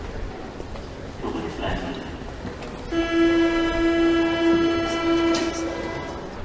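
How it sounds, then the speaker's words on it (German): A train in a German radio drama pulls away after braking, its rumble joined midway by a long, steady whistle-like tone with bright harmonics, loud and close over continuous rail noise. "Kurz nachdem die Bahn wieder angefahren ist,"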